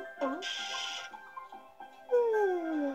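A dog whimpers and then lets out a long, falling howl in the video game Putt-Putt Travels Through Time, with other short game sounds before it and no talk over it.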